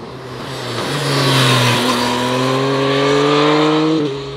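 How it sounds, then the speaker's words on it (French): A motorcycle with a factory up-and-down quickshifter revs through the gears, its airbox roaring loudly and close, engine pitch climbing and dropping in steps at each shift, with exhaust pops between changes. "le ronflement de la boîte à air, la détonation à l'échappement qui est permise par le Quick Shifter Up and Down de série"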